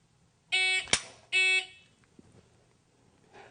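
Two loud electronic beeps from a shot timer sound during a dry-fire pistol drill, with a sharp click between them and quiet afterward.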